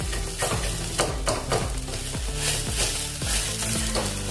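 A soybean mixture stirred with a spoon in a non-stick kadai, rhythmic scraping strokes roughly twice a second over a continuous close sizzle.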